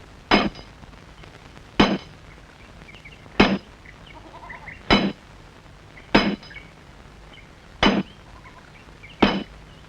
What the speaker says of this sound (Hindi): हथौड़ा मेरे को दो, मैं चलाती हूँ हथौड़ा